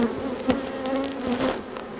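Honey bees buzz around a hive frame, a steady droning hum with overlapping wingbeats swelling and fading close by, with faint clicks and handling noise underneath.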